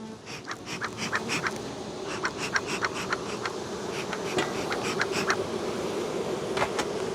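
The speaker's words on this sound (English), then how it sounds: "got lots of bees flying" Swarm of honey bees flying around heavily populated hive boxes in hot weather during a honey harvest, a steady close buzzing drone with individual bees zipping past the listener throughout.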